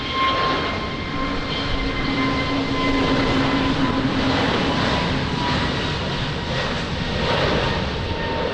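Airliner jet engines roaring during takeoff at Lisbon Airport in wind and rain, a loud sustained broadband rumble with a steady engine whine, continuous and close.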